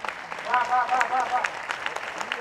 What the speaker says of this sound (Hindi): थोड़ा तालियों में जोश दीजिएगा, मेरा गला आपकी तालियों से ठीक हो सकता है।